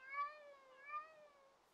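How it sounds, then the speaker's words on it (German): Two drawn-out cat meows from the Minecraft video game, one after another, close and moderately quiet, with nothing else sounding around them. "Hier gibt es Katzen, hier mauzen Katzen."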